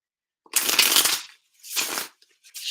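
Tarot cards from a Wild Unknown deck are riffled and shuffled in two clear bursts, then a short flick, crisp and close against silence.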